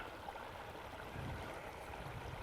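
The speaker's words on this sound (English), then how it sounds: "Fresh spring water." Fresh spring water trickling at a backcountry campsite, a steady close gurgling rush that fills the whole clip with even loudness, with no voices.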